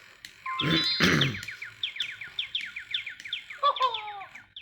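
A small baby bird chirps repeatedly in a tree: a steady run of quick, high, thin tweets that go on through the clip, with a short burst of a voice-like sound near the start.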